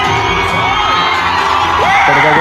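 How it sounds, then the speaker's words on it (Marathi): A lively crowd at Circuit Nana's live show in Hadapsar cheers, shouts and whistles as the performer enters, with a dense roar under rising and falling whistle-like tones. "नानांच्या एंट्रीला टाळ्या व शिट्ट्यांचा जो गदारोळ झाला"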